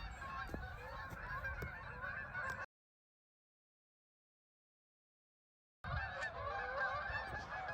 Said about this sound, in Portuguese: Se aqueles patos vêm para cá, eu não posso perder essa aterrissagem.